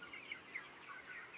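Chickens on a poultry farm cluck and call softly in a steady, faint flock murmur, with a few slightly louder calls standing out and no talk.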